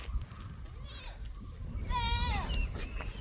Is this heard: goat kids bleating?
yes